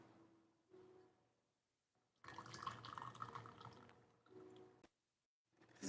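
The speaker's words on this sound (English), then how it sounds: "Now we pour the tea out." Yunnan white tea poured out at a tea ceremony, a faint trickle that swells into a short splashing stream, then drops away, with quiet gaps and small splashes around it.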